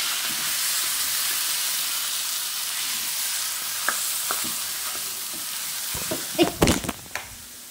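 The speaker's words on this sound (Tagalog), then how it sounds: "Mix lang natin guys." A spoon stirs chicken tinola in a pot over a steady, hissing sizzle, with a few soft scrapes and clinks of the utensil toward the end.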